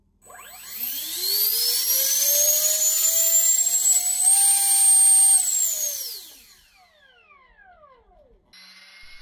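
A small jet motor on a test stand spools up with a rising whine, holds a loud high-pitched scream for several seconds, then winds down with a falling tone, heard close and alone.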